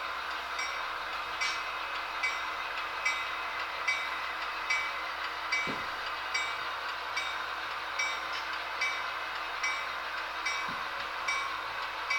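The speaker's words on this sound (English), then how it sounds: "we're bringing in another locomotive to take the cars back to the seaport" A model railroad locomotive rumbles steadily at moderate distance, with rhythmic clicking and clacking of wheels over rail joints and a couple of brief low thumps.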